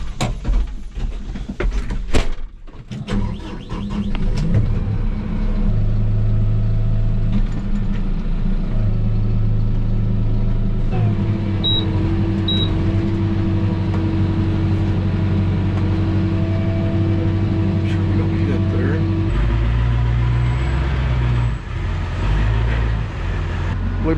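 A farm truck engine runs and idles steadily near a shed while hay equipment is shifted around, with a low constant drone, a few clanks and door-like knocks.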